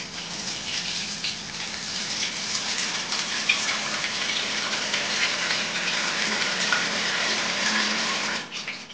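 Water is switched on and runs in a steady, hissing stream that stays continuous for several seconds before cutting back near the end, with no talking.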